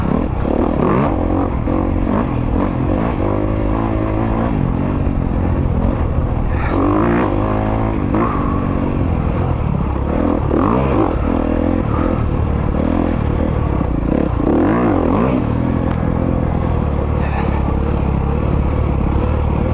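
A Honda CRF250RX dirt bike engine revs hard and continuously as it climbs uphill, its pitch rising and falling with shifts and throttle changes, loud and close, with clattering over rough ground.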